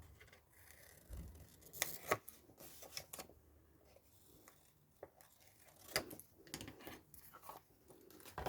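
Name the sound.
scissors cutting corners of fabric pocket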